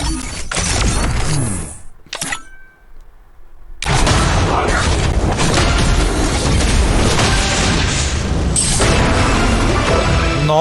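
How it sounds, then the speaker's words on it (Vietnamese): Gun-swap effect for a Thompson weapon in the shooter game CrossFire, a loud, dense burst of crashing, roaring noise that drops out briefly after two seconds, then surges back and holds at full strength to the end. "Âm thanh đổi súng đặc biệt"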